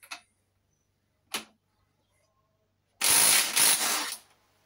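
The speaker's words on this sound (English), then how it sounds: "Let's try this impact driver out from Parkside." A Parkside impact driver works on a Suzuki RM80 dirt bike, giving two sharp clicks followed by a loud, close burst of rapid hammering that lasts about a second and a half. No voices accompany it.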